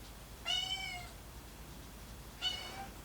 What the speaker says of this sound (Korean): 그만 울어 고양이!